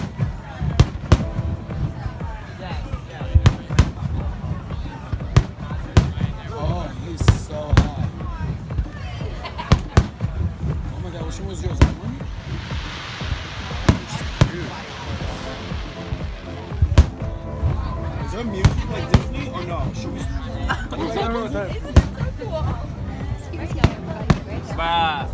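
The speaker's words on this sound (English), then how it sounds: "Fireworks." Fireworks pop and crackle in rapid, irregular bursts throughout, with a hissing whoosh midway and people talking underneath.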